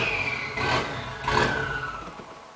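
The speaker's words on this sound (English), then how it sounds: "If I give it steady throttle, it doesn't raise the RPMs. I gotta snap throttle it to keep it going. Try and let it idle here." A truck engine running rough at idle, with blips of revving as the throttle is snapped, then the steady drone sags and fades as the engine begins to stall; close and fairly loud, with no talking.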